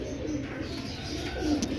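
Soft, low pigeon cooing repeats in a steady murmur, close by, with no talking over it.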